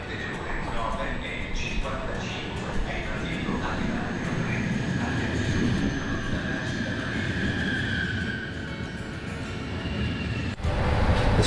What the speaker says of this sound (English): This train reminds me of the RERs in Paris.